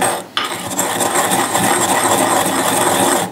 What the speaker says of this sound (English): I'm just going to grind all the sugar with the saffron